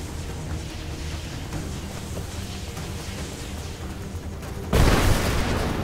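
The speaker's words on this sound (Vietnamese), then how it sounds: "nó làm nổ cái chỗ này rồi" An explosion bursts loudly and suddenly in the Rise of the Tomb Raider video game, breaking through busy game sound and leaving a sustained rumble afterward.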